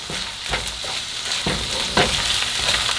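Onions and garlic fry in a hot pan as they are stirred, with a steady close sizzle broken by a few scraping stirs of the spoon.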